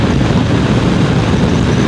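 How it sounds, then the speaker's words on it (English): Strong wind buffets a microphone on a 2023 Indian Scout ABS motorcycle in a constant loud rumble, with no other sounds coming through. "A little bit windy today"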